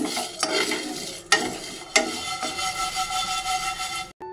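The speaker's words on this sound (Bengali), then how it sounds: "এবার হালকা আগুনে এটাকে ভেজে নেব, নিয়ে এটাকে গুঁড়ো করে দেবো" Whole spices and dried red chillies dry-roast in a pan over a low flame, with a continuous light sizzle and several sharp stirring scrapes and taps from a spoon, heard close with no talk.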